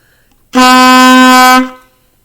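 A single sustained reedy saxophone note, an A, bright and steady, held for about a second before cutting off, played alone and close.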